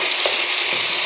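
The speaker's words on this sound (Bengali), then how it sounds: "এখানে একটু আদা রসুন বাটা আর একটু পেঁয়াজ বাটা দিব। দিয়ে একটু ভেজে দিব" Ginger, garlic and onion paste sizzles in hot oil in a pan while being stirred, a steady close-up frying hiss with faint scraping and no voices.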